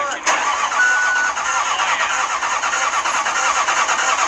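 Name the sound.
diesel engine sputtering, failing from fuel starvation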